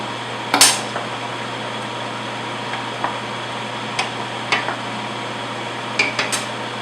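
Occasional clinks and knocks of a utensil against a pot of boiling dried fruit and nuts, sparse and fairly close, over a steady low hum with no talking.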